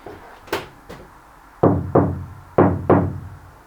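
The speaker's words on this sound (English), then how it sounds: "hopefully by that knocking test, the sound deadened part is a lot quieter than the non-sound deadened part" Knuckles knock on the metal side panels of a VW Crafter van being sound-deadened: two thin, faint raps, then two pairs of louder, fuller thuds, close and alone.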